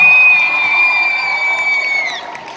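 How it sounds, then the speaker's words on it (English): A large concert crowd in Peterborough cheers and whoops loudly, a sustained roar of applause and high shrill voices that eases off slightly toward the end. "Give yourselves a round of applause, Peterborough."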